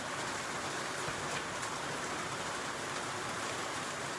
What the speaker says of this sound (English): The rain sounds lovely, does it?